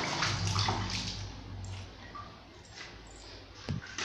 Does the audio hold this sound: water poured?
yes